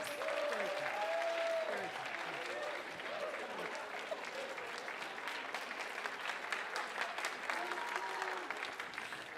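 A crowd at a Write Club literary bout applauds to vote for Dr. K, a fairly faint, sustained patter of clapping with scattered cheers and whistles mixed in, plus a few voices.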